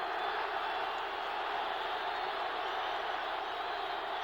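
A packed football stadium crowd roars at a Washington Redskins at Detroit Lions NFL game, a dense, steady wash of noise with no breaks.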